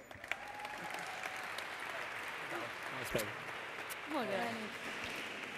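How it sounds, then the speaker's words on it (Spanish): An audience at a gala awards ceremony applauds in a steady, fairly faint patter of many hands, while a voice speaks briefly over the clapping. "Un fort aplaudiment."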